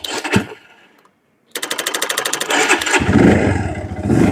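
A motorcycle on a rural village outing kicks into life after a brief pause, the engine catching with rapid sharp firing pulses that settle into a loud, rough idle close by, with no talk.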